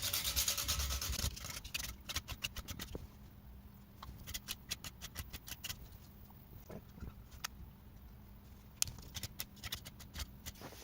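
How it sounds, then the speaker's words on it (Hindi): A small part is rubbed back and forth on sandpaper by hand, giving quick, irregular rasping scrapes in short bursts that recur close up across the whole stretch, with no talking. "इसको थोड़ा सा रेगमाल पे सैंड पेपर पे ऐसे घिसना पड़ेगा"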